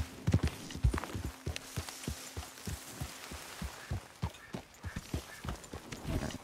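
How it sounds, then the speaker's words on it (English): A horse's hooves clip-clop in Red Dead Redemption 2, a steady, fairly close walking rhythm of distinct thuds running throughout over a soft ambient background. "My temporary horse."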